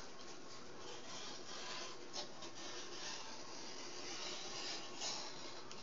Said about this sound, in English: The razor blade is going toward me,